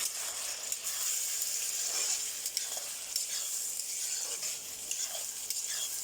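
Potatoes, onion, green chili and freshly added tomatoes fry in a pan with a steady, dense sizzle, a few soft stirring scrapes showing through the constant hiss.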